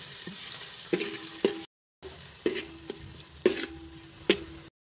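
Green chili paste fries in hot oil in a pan for a chili amti curry, a soft sizzle broken by several sharp scrapes and knocks of a stirring spoon, with a brief silent gap midway and no speech.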